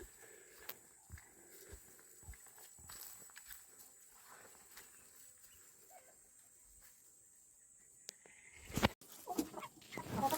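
Chickens cluck softly in an ash-covered yard with rabbits nearby, faint scattered clucks and scratching steps against a quiet background, ending in a louder close rustle.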